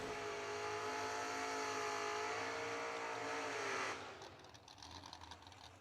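A race car engine at a drag racing event holds a high, strained drone at full throttle, then drops off abruptly as the driver eases back, leaving a rougher, fainter rumble.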